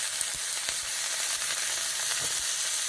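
Chillies, brinjal and garlic fry in a pan, giving a steady crackling sizzle with small pops throughout.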